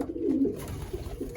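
A racing pigeon coos softly at the loft after a 150-mile race, a low burbling call followed by a couple of shorter coos, faint and close.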